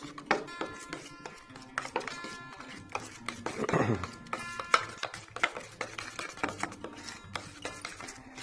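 Homemade dipping sauce with paprika being stirred together in a bowl: close, irregular clinks, taps and scrapes of a utensil against the bowl, with no talking.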